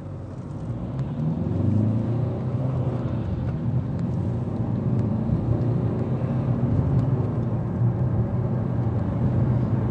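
A car accelerates onto the A12 during an on-road CO2 emission test, heard from inside as a steady, fairly loud engine and road rumble that builds gently and holds without talk.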